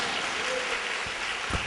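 A church congregation claps hands in steady, dense applause throughout, loud and continuous with no pauses.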